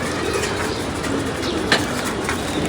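Several pigeons flutter down to land together, a brief soft flapping of wings over a steady outdoor hiss, with a faint coo or two nearby and one sharp flap standing out.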